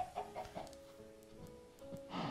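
Chickens cluck in Minecraft in a few short, close bursts, with game music playing underneath.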